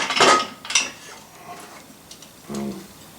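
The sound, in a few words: handling a pressure cooker containing chickpeas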